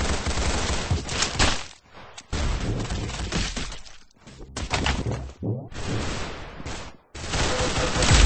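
Gunshots in a shooting video game, loud sustained bursts of heavy fire broken by brief silent gaps, with a crashing, shattering edge to the blasts.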